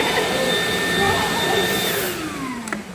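A Numatic cordless vacuum cleaner runs with a steady loud whine and airy rush, its motor pitch sliding downward near the end as it winds down.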